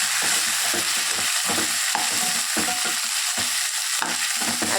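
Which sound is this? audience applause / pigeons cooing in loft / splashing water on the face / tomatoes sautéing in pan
tomatoes sautéing in pan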